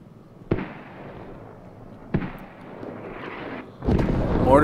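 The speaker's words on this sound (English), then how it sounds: "There's the ranging strike for the artillery" Artillery ranging strikes in the video game Squad, three sharp, loud booming impacts spaced over a few seconds, each followed by a rumbling tail, with no voices heard.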